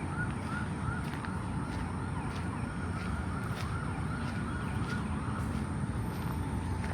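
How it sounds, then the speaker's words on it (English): Ambulance sirens wail faintly in the distance on a Houston street after Hurricane Beryl, a steady wavering tone over a constant wash of wind and traffic noise. "You can see people, the ambulances flying by here."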